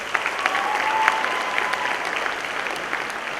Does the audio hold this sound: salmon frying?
no